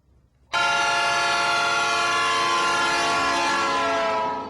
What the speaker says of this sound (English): The historic CHEPE train, traveling 400 miles of railroad.